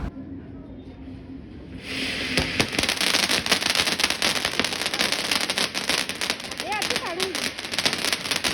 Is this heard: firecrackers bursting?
yes